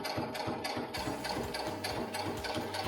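A sewing machine runs continuously while stitching letters, its rapid rhythmic needle clatter close and steady with no talking.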